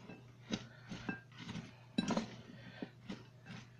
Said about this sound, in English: Go ahead and mix this up.